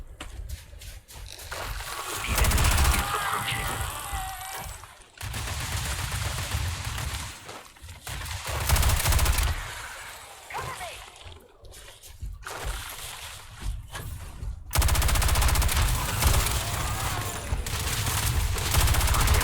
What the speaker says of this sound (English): go assault rifle